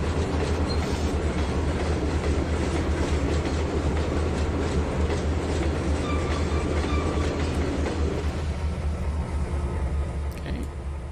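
In Trainz 2019, a train hauling an ethanol tanker rolls steadily along the rails with a loud, continuous rumble, rhythmic wheel clatter and faint squeals throughout.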